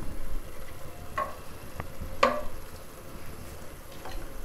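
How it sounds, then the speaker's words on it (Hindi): Ginger fries gently in a pan over low heat, a soft steady sizzle broken by a few sharp clicks and taps of a utensil, close and without speech. "मैं इसे और भूनूंगी हल्की आंच पर"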